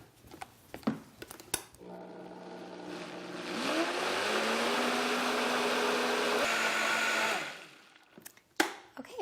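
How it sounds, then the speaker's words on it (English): Kitchen blender whirring through lemon cheesecake filling, starting after a few clicks, running steadily loud for about six seconds with the motor pitch rising, then winding down, followed by clunks. "now we're going to blend this all again, and we want it to all emulsify and mix together so it's nice and creamy again."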